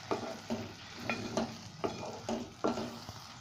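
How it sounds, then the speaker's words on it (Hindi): Jaggery lapsi made with broken wheat is stirred in a pan over a low flame: rhythmic spoon scrapes and thick squelches repeat roughly every half second over a soft background sizzle. "और अब लो फ्लेम पर इसे फिर से एक बार अच्छे से मिक्स कर लेंगे"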